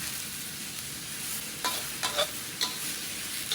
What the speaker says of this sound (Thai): ผัดจนกว่าเราจะเริ่มสุกนะคะ